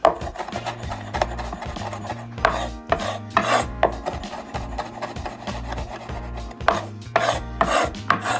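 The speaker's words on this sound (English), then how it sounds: "Chop it up very fine" A knife chopping fresh rosemary finely on a board, rapid rhythmic rasping strokes close up over a low steady musical bed.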